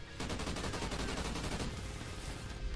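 Rapid sustained gunfire from the video game Call of Duty: Ghosts in Extinction mode, a dense, loud volley of shots running continuously for nearly three seconds with no talk.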